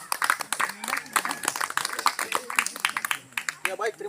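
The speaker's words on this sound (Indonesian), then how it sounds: "dan kita tepuk tangan untuk peluang." Scattered clapping from a small group at a church community discussion forum, with loud, irregular individual claps mixed with people talking over them at close range.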